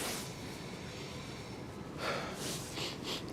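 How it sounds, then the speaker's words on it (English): Heavy breathing from a person walking on a cold day while wearing a mask, a steady close breathy rush with a few sharper puffs toward the end, heard alone without talk. "Sorry for the heavy breathing."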